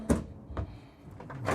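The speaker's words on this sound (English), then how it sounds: "Two nice big pull-out drawers there." A big pull-out drawer in a 2026 Renegade XL 45DBM RV cabinet is slid and thumps shut, with a few soft knocks and rumbles spread across a quiet interior and no talking.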